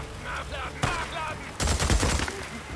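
Gunfire in the video game Days Gone, a sharp single report followed after a short pause by a loud rapid burst of shots, with a voice speaking faintly beneath.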